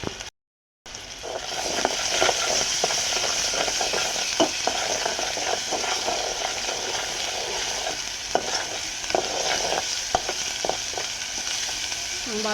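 Ground turmeric, coriander, chili powder and salt sizzle in oil as they are sautéed in a pan, a continuous close frying hiss broken by occasional clacks of a spatula stirring, with no talking.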